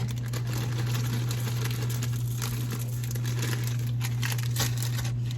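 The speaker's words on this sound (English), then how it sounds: "I'm going to open up my second bag, and I'm going to add a few more chocolate chips" A bag of chocolate chips being opened for cookie dough, its plastic crinkling and rustling steadily throughout over a constant low hum in the room.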